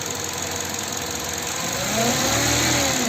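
A Hyundai Accent engine idles loudly up close, then revs up as its wiring harness is moved, the pitch rising and holding in a steady higher drone.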